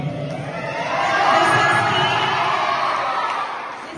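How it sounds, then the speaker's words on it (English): School audience at a science exhibition event cheering and shouting for a student team, a broad roar of many young voices that swells, holds for a couple of seconds, then eases off; little distinct clapping comes through. "A big round of applause for them"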